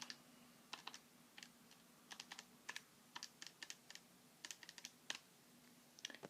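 Quiet computer keyboard typing as numbers are entered, with irregular bursts of light key clicks and short pauses between groups, close but soft over a faint steady hum.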